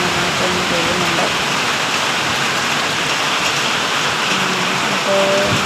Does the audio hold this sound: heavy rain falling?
yes